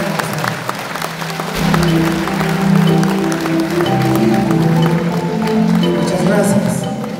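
Warm applause at a ceremony presenting new authorities, honouring the outgoing officials; a steady wash of clapping from the gathered audience with a voice speaking over it.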